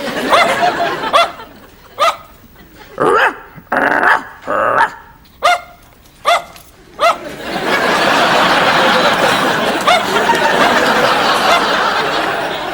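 A dog barks in short, loud bursts spaced through the first half, then breaks into a sustained, rough growl that runs continuously to the end.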